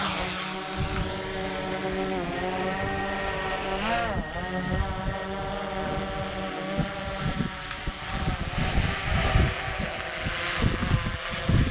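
DJI Mavic 2 Pro drone taking off outdoors, a loud steady buzzing whine with rising and falling pitch, mixed with wind noise on the microphone.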